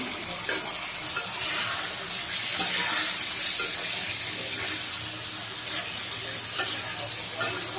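Egg curry and fried greens sizzle steadily in a hot pan, a loud continuous frying hiss broken by occasional stirring clinks.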